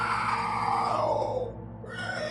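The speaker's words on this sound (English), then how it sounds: "The creature screeched," A monstrous creature's screech in a horror tale, a loud, sustained strained cry that sweeps downward in pitch, breaks off briefly, then resumes rough and raspy.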